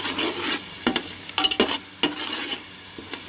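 Fish curry in a pot being stirred after roasted coriander and cumin powder goes in: repeated scraping strokes of a spoon against the pot over a soft simmering sizzle, close and fairly loud.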